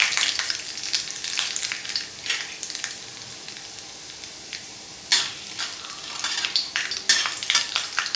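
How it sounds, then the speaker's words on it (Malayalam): Half a teaspoon of urad dal frying in hot oil for masala bonda, crackling and popping close up in uneven bursts, with no talking. "അതിലേക്ക് നമ്മൾ എണ്ണ ഒഴിച്ച് കൊടുക്കുകയാണ്. ഇനി നമുക്ക് 1/2 ടീസ്പൂണ് ഉഴുന്ന് പരിപ്പ് ഇട്ട് കൊടുത്തിട്ടുണ്ട് കേട്ടോ."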